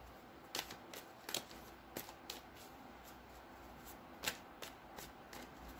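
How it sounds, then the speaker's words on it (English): Tarot cards being shuffled by hand close up, a quiet run of soft riffling flicks and snaps in an irregular rhythm over a faint background hiss. "One more shuffle."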